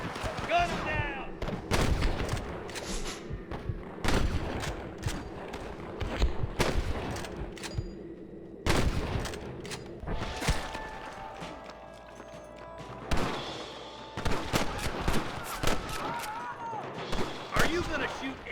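Repeated gunfire at rustlers in Red Dead Redemption, sharp shots in irregular bursts over eighteen seconds with hoofbeats, shouted voices and game action mixed in.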